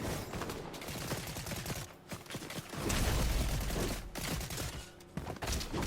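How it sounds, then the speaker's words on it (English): Gunfire in the video game Fortnite: dense, rapid volleys of shots rattle almost without pause, with a heavier burst in the middle and short gaps between strings of fire. "Is someone shooting me from behind?"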